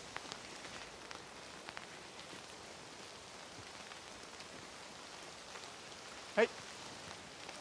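Steady rain patters on leaves and surfaces outdoors in an oak woodland, an even hiss with scattered drops, while a voice briefly calls out once near the end.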